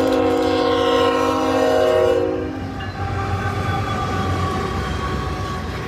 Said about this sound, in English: This train that we're taking a look for is Island 32 with CN and Union Pacific.